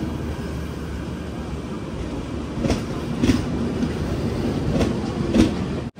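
Charminar Express train held near Warangal, a steady rumbling rail noise with a few brief rattling bursts, close and continuous, with no voices.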